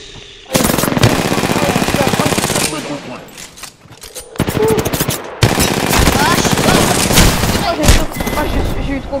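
Rapid automatic gunfire in the shooter video game Apex Legends, with long loud bursts broken by brief pauses and a speaking voice now and then.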